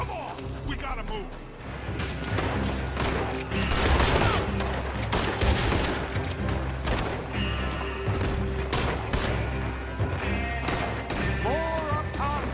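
Rapid gunfire cracks and volleys nonstop through a Western shootout in Red Dead Redemption 2, dense overlapping shots with smashing impacts, while voices shout over the din.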